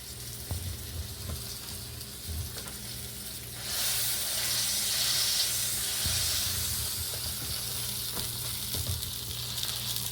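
Pork sausage frying in a pan in a cabin kitchen, a soft crackle at first that swells into a louder, steady sizzle and hiss, close by, with light clinks and no talking.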